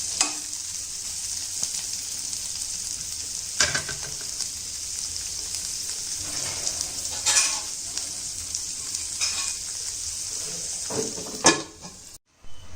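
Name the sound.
boti (meat) curry frying and sizzling in a pan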